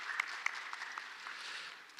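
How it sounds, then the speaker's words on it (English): An audience at a public-sector human resource management conference gives brief, fairly soft applause, a short scattered patter of clapping with a couple of sharper individual claps near the start. "Please make a big clap."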